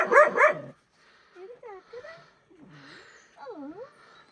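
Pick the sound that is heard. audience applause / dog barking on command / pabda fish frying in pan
dog barking on command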